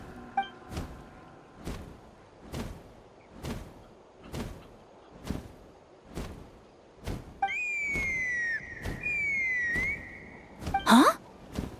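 A sustained whistle sounds in a pair of steady tones that slide upward at the end, cutting through a regular series of soft thumping beats in an otherwise quiet outdoor scene.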